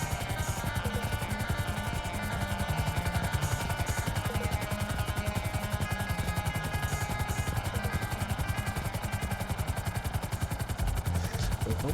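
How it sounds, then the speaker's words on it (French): A helicopter in GTA Online, during preliminary missions for the Cayo heist, gives a steady, loud rotor chop that pulses evenly and continues without a break, with no talking over it. "Allez, hop, on prend l'hélico."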